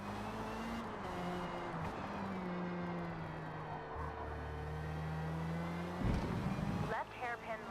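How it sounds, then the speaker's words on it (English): Race car engine in the Forza Motorsport racing game, a steady high-pitched drone with shifting tones, heard under continuous talk, rising briefly near the end. "She's like a little Formula 1 car. Honestly, she sounds more like a Formula 1 car than my actual Formula 1 car."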